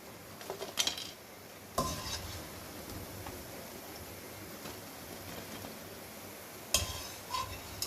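Fried pakoras being lifted out of a pan with utensils, giving a few sharp metallic clinks and scrapes over a soft, steady background hiss, close by and fairly quiet.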